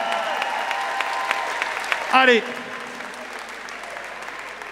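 A crowd at a dance battle semi-final, BOTY Mayotte 2019, gives soft, steady applause that sounds fairly distant, broken by one short shouted cheer partway through.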